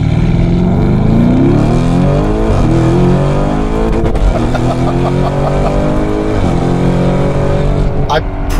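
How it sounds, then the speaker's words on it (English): A Lamborghini Urus engine with a Novitec exhaust roars loudly, revving up in rising sweeps with crackles and pops, very close and dominating. "exhaust of ours makes this car bonkers"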